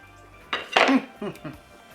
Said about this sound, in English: Now I'm going to cut a small piece for the taste test.